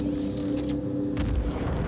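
A torpedo launches from an Aegis Eclipse bomber in Star Citizen, a deep booming rumble with a rising whoosh and a heavier burst near the end, loud and close.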